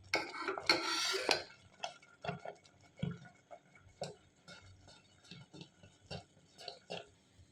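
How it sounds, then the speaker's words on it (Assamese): A spoon stirs a pot of devotional food offering slowly, making soft, steady scraping clicks at an even rhythm after a brief louder rustle. "এনেকৈ লাহে লাহে লৰাই থাকিব লাগিব।"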